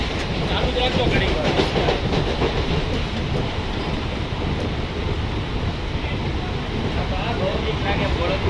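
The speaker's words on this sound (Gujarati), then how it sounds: "સ્ટેચ્યુ ઓફ યુનિટીમાં ટ્રેનમાં જવું હોય તો આ ટ્રેન જ લેવી જોઈએ." A passenger train bound for the Statue of Unity in Gujarat runs steadily along its rails, producing a continuous, close rumble and rattle of wagons that holds even loudness throughout.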